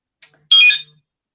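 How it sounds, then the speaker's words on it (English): A mobile phone sounds a short electronic alert: a brief faint blip followed by a louder, bright half-second chirping tone, close by and isolated against silence. "What's buzzing? It's my phone."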